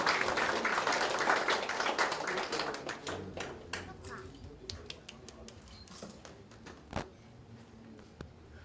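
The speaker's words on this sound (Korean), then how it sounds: "박수로 축하해 주시기 바랍니다" An audience applauds at a Daejeon federation launch ceremony, with brisk clapping that starts full and then tapers into sparse, scattered claps, and a brief voice heard partway through.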